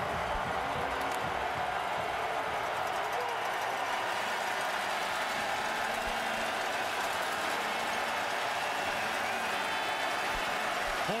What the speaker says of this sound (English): crowd sound from the Bombers.